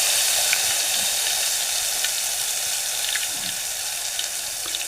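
Ginger garlic paste sizzles hard in a hot pan with cumin and mustard seeds, a steady loud hiss with small pops and crackles running throughout.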